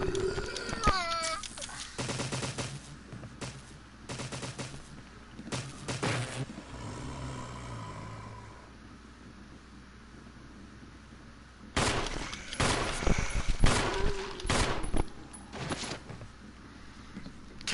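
Gunfire in the Resident Evil remaster, bursts of loud sharp shots in clusters early on and again toward the end, separated by quieter game ambience.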